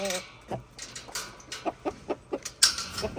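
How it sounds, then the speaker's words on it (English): Chickens cluck excitedly as they are let out of their coop in the evening, a run of short, rhythmic clucks close by, with a louder squawk near the end. "Good evening, chickens. It's been a while since I've let you out."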